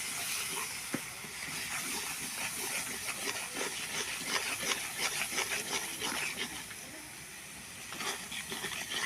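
Turmeric, salt and spices are stirred in a sizzling pan, making a continuous close hiss with faint stirring scrapes and no talk.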